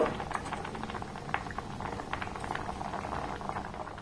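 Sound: milk pithas (rice dumplings) boiling in milk

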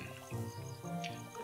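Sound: watering plants with water, from a video game

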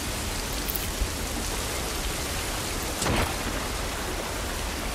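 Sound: rain falling outdoors in video game The Last of Us Part I

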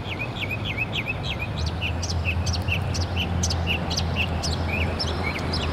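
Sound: bird singing outdoors

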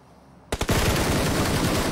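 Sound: gunshots in a shooter video game

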